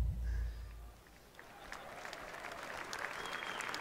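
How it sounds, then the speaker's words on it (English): Applause rises from a conference audience at Microsoft's E3 2017 show, a brief burst of clapping that fades into scattered, thinner claps in a large hall, with voices faintly mixed in. "That one guy in the audience clapping at the back."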